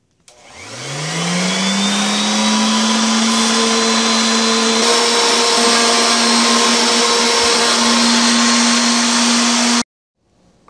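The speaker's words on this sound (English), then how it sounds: "we're going to finish it off with the sander and get this nice and smooth" A power sander smoothing the cut edges of a wooden yard flag template, spinning up quickly and holding a loud, steady whine for about nine seconds before cutting off abruptly.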